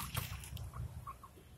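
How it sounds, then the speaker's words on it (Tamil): Country chickens and their chicks on a farm cluck and peep faintly in the distance, with a few soft chirps over a low background hum. "குஞ்சு இதெல்லாம் கோழி குஞ்சு நான் வளர்த்துறேன்."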